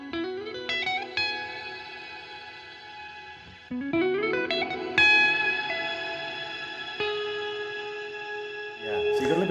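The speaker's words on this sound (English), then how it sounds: "now you'll hear a little bit of delay before the reverb and shimmer come in." An electric guitar runs through a Laney Black Country Customs Secret Path reverb pedal with pre-delay and shimmer. Plucked notes and chords ring out, a short gap comes before each bloom, and bright shimmering overtones and long washy tails follow.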